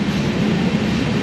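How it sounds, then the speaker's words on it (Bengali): Passenger train rolling along after leaving the station at night, a steady low rumble heard from on board, continuous and moderately loud. "অ্যাটলাস্ট ট্রেনটা পেয়েছি, ট্রেনটা ছেড়েছে।"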